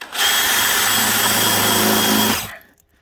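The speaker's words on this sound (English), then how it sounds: "I'll drill out a pilot hole" A power drill whines at high speed for a couple of seconds boring a pilot hole during an Airstream axle swap, then winds down and stops.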